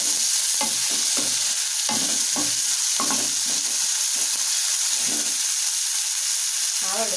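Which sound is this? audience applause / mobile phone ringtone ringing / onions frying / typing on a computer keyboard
onions frying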